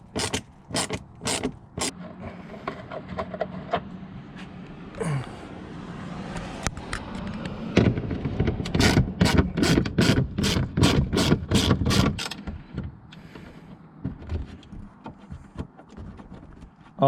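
Socket wrench ratcheting rapidly to unbolt a 2018-or-later Ford F150 headlight assembly, with close bursts of rhythmic clicking, brief pauses and mechanical creaks, and no talk.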